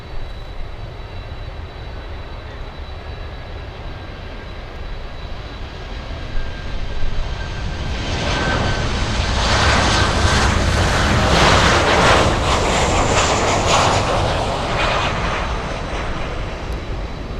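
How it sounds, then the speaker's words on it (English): An American Airlines jet flying in from San Salvador arrives at Miami International Airport in stormy weather. A steady wash of noise builds into a loud, broad jet roar as it passes close, then eases off slowly. "This is American Airlines 1494 flying in from San Salvador."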